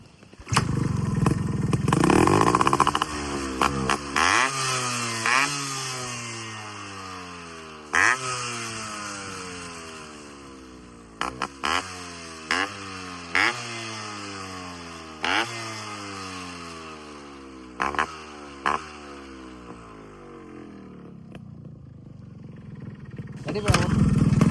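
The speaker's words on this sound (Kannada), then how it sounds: "ಗಾಡಿ ಚಾಲು ಮಾಡಿನೂ ತೋರಿಸ್ತೇನೆ." A Yamaha RX135 two-stroke motorcycle starts and is revved repeatedly, a close, loud, buzzing engine whose pitch climbs and falls in a long series of throttle blips, with a voice talking over it.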